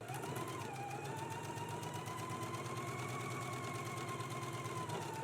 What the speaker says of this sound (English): And we're going to stitch along this upper edge.